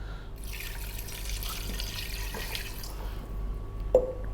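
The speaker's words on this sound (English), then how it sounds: "We're going to add water." Water runs steadily into a pressure cooker holding seasoned beef, a continuous close pouring and trickling wash with a small splash near the end.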